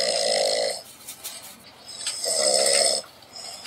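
A person snores close by, two long, rasping inhaled snores separated by a quieter breathing pause, loud and steady, with the start of another at the end.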